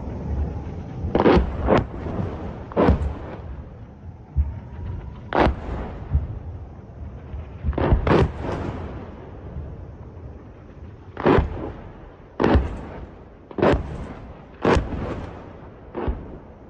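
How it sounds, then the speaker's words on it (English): Rocket impacts and explosions in Israel: about a dozen heavy, booming blasts spaced irregularly across the stretch, some close and loud, others more distant, with rumbling between them. "look at the amount of rockets that are landing"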